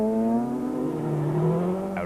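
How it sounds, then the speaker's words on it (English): Bulky N4 rally cars race on a twisty hill stage at the Toyota Dealer Rally 2006, one engine droning loud and steady, its pitch sliding slightly as it works through the bends, with no talk. "watch and listen as the bulky N4 cars battle the twisties high in the hills"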